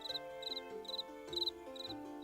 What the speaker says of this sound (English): the cricket rubs the edges of its forewings together to make a chirping sound